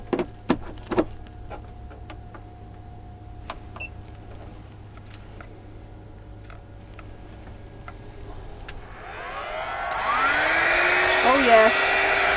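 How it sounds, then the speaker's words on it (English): A hair dryer powered from a portable power station inside a van switches on near the end, a loud steady whoosh rising after a stretch of quiet cabin noise with scattered small clicks and taps. "I want to know if I can dry my hair whilst being in the van"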